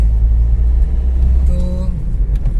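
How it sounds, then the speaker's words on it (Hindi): A 2014 Toyota Etios Liva G diesel hatchback is driven along, heard from inside the cabin as a steady low engine and road rumble with a faint, slightly rough diesel edge and no breaks. "तो डीजल क्लैटर तो ऑब्वियसली है थोड़ी एज कम्पेयर टू पेट्रोल"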